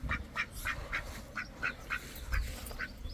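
Farm ducks, a mallard cross, quack in a quick, evenly spaced series of nasal calls, fairly close, over a low rumble of outdoor noise.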